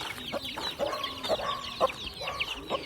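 Chickens cluck and cackle nearby in short, uneven bursts, several birds calling over one another with a faint background hum.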